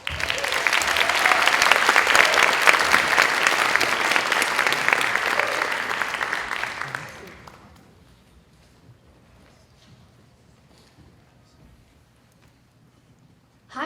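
An audience breaks into loud, sustained applause to welcome Astro Teller to the stage at a Google innovation event, dense clapping for about seven seconds before fading to near silence.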